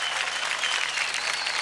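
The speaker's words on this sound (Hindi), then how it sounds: "जोरदार ताली एक बार फिर से चिन्मय के लिए।" Studio audience applause for contestant Chinmay on a televised Indian drama talent show, dense steady clapping filling the whole moment at even loudness with no pauses.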